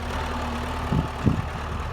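A 1961 MTZ-50 tractor engine, freshly repaired and ready for ploughing, runs at a steady low idle, with a constant close rumble and a couple of brief knocks.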